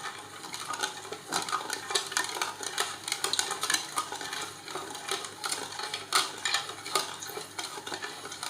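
A spoon stirs sugar into milk in a home kitchen, giving steady faint scraping and clinking against the vessel, without any voices.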